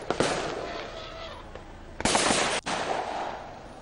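Firecrackers set off by villagers to drive a herd of elephants away from a North Sumatra settlement: loud, sharp crackling bursts, one early and a denser volley around the middle, over steady outdoor background noise.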